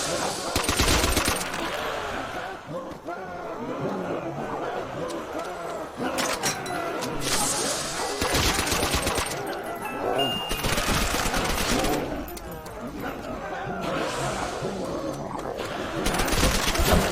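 Machine gun fire in a zombies video game, long bursts of rapid shots repeating every few seconds over a dense background of game noise, loud and close.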